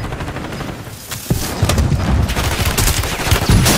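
Gunfire in a shooter video game: bursts of rapid automatic shots and sharp single cracks grow louder and denser toward the end, with no speech over them.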